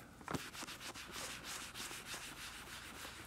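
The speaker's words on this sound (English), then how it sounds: "rubbing it in well." A quality sponge rubs dye into the soft leather parts of a belt bag with a steady, soft, repeated scrubbing swish, close and fairly quiet, without talk.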